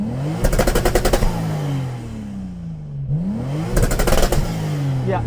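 Toyota Supra Mk4 TRD engine revved hard while stationary, two loud bursts climbing to the limiter and dropping back, separated by a quieter idle dip with exhaust crackle.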